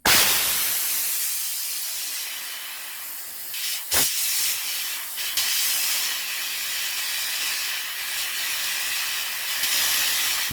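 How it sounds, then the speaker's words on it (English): A Ridgid air compressor has its brass safety valve pulled open. Compressed air hisses loudly in a sharp, steady rush that carries on for about ten seconds, with a brief bump and dip partway through. "Pull the ring on the brass safety valve to release the air."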